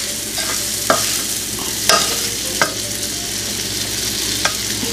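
Mushrooms with turmeric are stirred in a sizzling pan: a constant low fry runs throughout, broken by a handful of sharp spatula scrapes and knocks at irregular moments.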